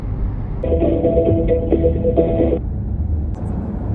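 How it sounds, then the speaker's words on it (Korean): The emergency call button in a Mercedes-Benz EQC electric car places an automatic call, producing a short series of pulsing dial and ringback tones over the low hum of the car's interior. "이쪽 버튼을 누르면 자동으로 전화 연결이 됩니다"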